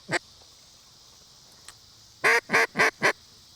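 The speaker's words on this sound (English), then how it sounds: "you can begin adding distractions like duck calls" Duck call quacks used as a distraction while training a dog for waterfowl hunting: one early quack, then a quick run of four loud nasal quacks close by.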